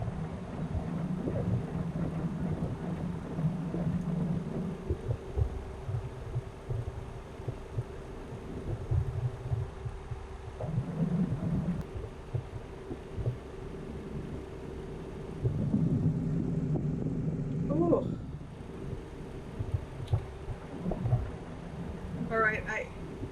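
Strong Alaskan winter wind of about 42 knots buffets a boat at anchor with its engine in neutral, a loud, continuous low roar in uneven gusts, with voices faint beneath it.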